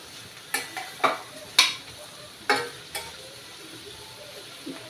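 Onions frying in oil for a bitter gourd curry, a quiet sizzle under several sharp scraping clinks as a spoon stirs the pan, about five strokes spaced irregularly.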